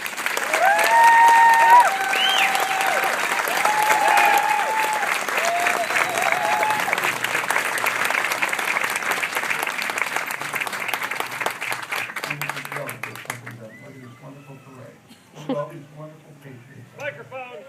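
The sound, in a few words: applause welcoming Army veteran Kerry Bentivolio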